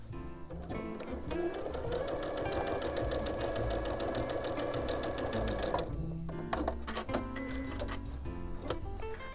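A sewing machine stitches a quilt block for a Crow's Foot sampler pattern, running steadily and close for about six seconds, then breaking into shorter start-stop bursts of needle chatter.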